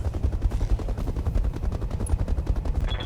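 Rapid bursts of gunfire from mechs in a jungle battle, dense repeated shots in a steady rattling stream, loud and close, with no talk over it.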